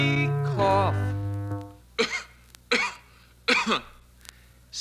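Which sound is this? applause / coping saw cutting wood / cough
cough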